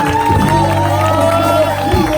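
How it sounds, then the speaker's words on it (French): A church congregation cheers and shouts for joy during worship, a loud sustained crowd roar with whoops and raised voices, singing or a leading voice carrying over the top. "Reçois nos acclamations. Reçois nos cris de joie."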